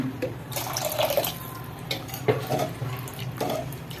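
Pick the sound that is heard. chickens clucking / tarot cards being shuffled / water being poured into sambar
water being poured into sambar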